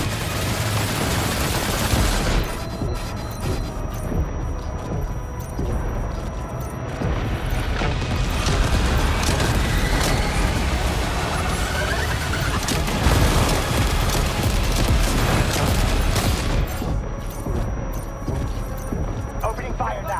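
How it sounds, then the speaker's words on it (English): Gunfire in the video game Death Stranding 2 during a fight with the Headless Riders, bursts of rapid shots and booms in repeated waves over a dense, loud battle din, with voices speaking intermittently. "Opening fire now."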